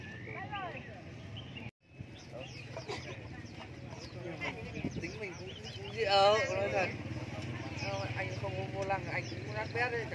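Jungle fowl cluck and squawk close by in repeated bursts at a bird market in Lang Son, Vietnam, with people talking in the background.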